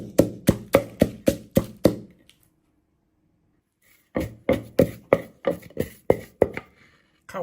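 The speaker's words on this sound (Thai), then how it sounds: "ขออนุญาตโขกเสียงดังหน่อยนะครับ" Rhythmic pounding of salt and chilies in a mortar: a fast run of heavy thuds, a pause of silence, then another steady series of strikes.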